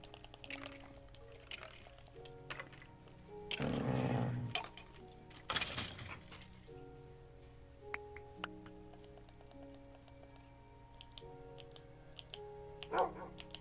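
A dog in a video game barks a few times and growls over faint game music with sustained tones, giving several short bursts that stay fairly quiet and distant.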